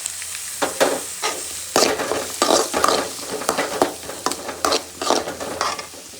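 Onions and soaked cashews fry in a pan, loud crackling sizzle broken by frequent rhythmic scrapes and clatters of a spoon stirring, close up and continuous.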